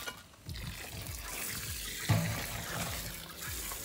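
Water is poured and splashed onto a pile of freshly made biochar, a soft steady wash of liquid heard up close with some rustling and no talking.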